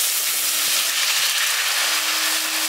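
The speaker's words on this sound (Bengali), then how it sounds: "জলটা দিয়ে মশলাটার সঙ্গে ভালো করে মিশিয়ে দিচ্ছি" Spice paste with a little water being stirred in a hot pan for a village-style spicy garlic potato dish, giving a steady, dense sizzle with soft scraping throughout and no talk.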